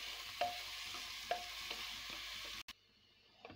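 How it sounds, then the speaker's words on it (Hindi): Finely chopped onion with garlic and green chili frying in a pan, a steady close hiss with a few light stirring clicks, then it cuts off abruptly to a much fainter sizzle. "बारीक कटा हुआ प्याज डाल दे रहे हैं। इसको ब्राउन होने तक भूनेंगे।"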